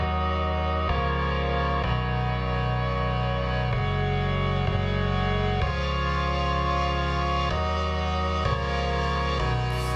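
Sustained techno synth chords with a buzzy, distorted tone, changing roughly every two seconds in a steady loop, loud and alone.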